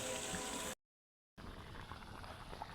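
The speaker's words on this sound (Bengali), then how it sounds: "তো এই যে বলক উঠছে কলিজা" Liver boiling in a cooking pot, a steady bubbling simmer close by, broken by a brief gap of silence before the rolling boil resumes.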